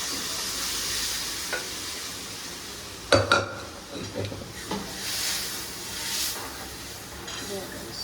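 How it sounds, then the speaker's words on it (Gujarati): Dal lentils tipped into a hot pan and stirred, with a sharp clatter and hiss partway through, then continued sizzling and scraping; voices can be heard at times. "અને જો ગાઈસ એ આ નાખી દીધી દાળ."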